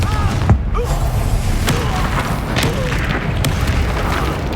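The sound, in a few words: Confringo blasting curse explosion in video game Hogwarts Legacy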